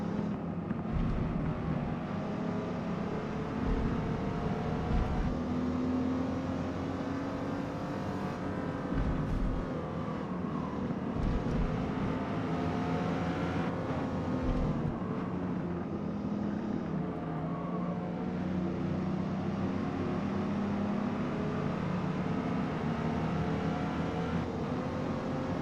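A Volkswagen Touareg R50 with its 5-liter engine runs in Gran Turismo 7 as a steady, continuous drone. The engine note shifts in pitch throughout, with some wind-like rushing underneath and no talking.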